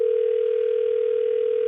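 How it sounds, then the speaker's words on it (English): A steady, unbroken telephone dial tone hums at one pitch, loud and alone, as a call is placed to a cell phone. "Calling Fester on the cell phone."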